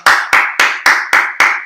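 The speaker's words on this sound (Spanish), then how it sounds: "Por favor, todo el mundo, un aplauso" Seven loud, sharp claps in an even rhythm, close and alone, about one every quarter second, given as applause to welcome a guest portraying Guy de Maupassant.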